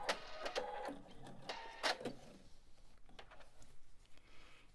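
Sewing machine on a project, a short reverse stitch and then forward sewing, quick rattling bursts of needle strokes in the first two seconds, then quieter, fainter clicking, with no talking.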